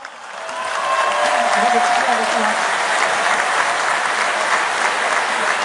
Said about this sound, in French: qu'on peut déjà applaudir à l'avance